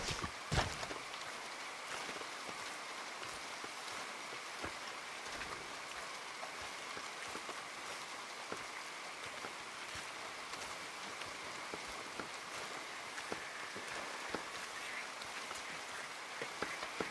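Rain falls steadily in Red Dead Redemption 2, a soft continuous patter on surfaces with scattered sharper drips and ticks throughout, faint and even.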